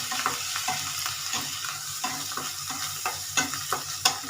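Homemade garam masala powder fries and is stirred in a pan, a soft sizzle under a series of scraping stirs that come close and fairly quiet, with no talk.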